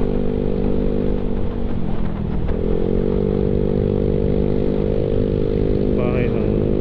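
A Suzuki motorcycle passes close on a road in Batangas City, its engine drone shifting in pitch as it goes by. It sits under the loud, steady hum of the riding scooter.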